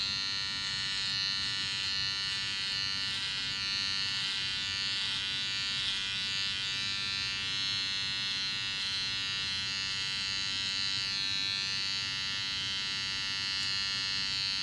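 A beard trimmer buzzes steadily and loudly close by as it cuts along a sideburn line, a constant electric whine with no talking over it.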